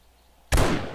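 A zombie's head explodes in the video game 7 Days to Die: a single sudden, loud burst that breaks a near-silent moment, then a decaying rumble.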